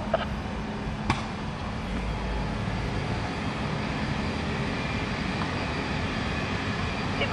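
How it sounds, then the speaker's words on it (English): A cargo jet taking off from runway 9 at Miami International Airport, heard as a steady, broad, sustained engine roar at a distance with a low rumble, continuous and without any talk over it. "cargo 1751 heavy, runway 9, turn right heading 120, clear for takeoff"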